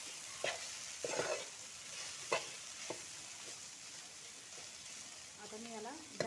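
Okra stir-fried in a pan over a wood-fired clay stove, giving a soft, steady sizzle with occasional scraping stir strokes; a faint voice is heard near the end.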